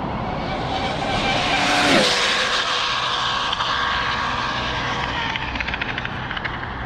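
Arrma Limitless GT RC car on a speed run with a high-kv motor, a rising high-pitched electric whine sweeping past close by, then a steady buzzing drone with scattered crackles.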